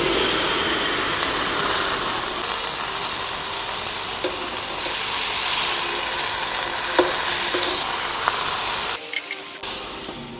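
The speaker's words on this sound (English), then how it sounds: "Let's open and flip our skewers." Chuck steak skewers in an opened air fryer sizzle and crackle steadily at close range, with a few light clinks near the end as the sizzling briefly cuts out.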